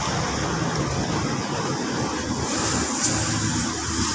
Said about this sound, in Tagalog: i-drain na natin yung langis